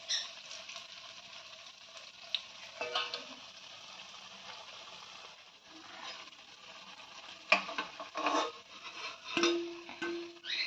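Soft sizzling of lentil fritters frying in oil with occasional stirring, scraping and clinks of utensils; quiet and close, with a couple of louder knocks.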